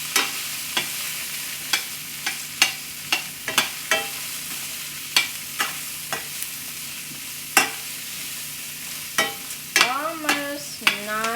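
Onions cooking down in a frying pan, with a soft, constant sizzle broken by regular, sharp clinks and scrapes of a utensil stirring them.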